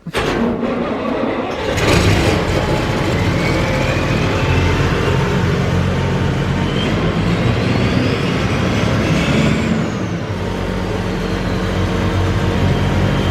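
A Massey Ferguson MF40 combine harvester runs loud and steady throughout, its engine drone rising and shifting as the gears are worked through.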